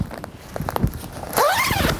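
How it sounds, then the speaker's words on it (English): A coat zipper is run up and down in one brief, scratchy sweep near the close, after a few seconds of soft handling and rustling. "just try the zipper. Make sure it goes in and up and down okay"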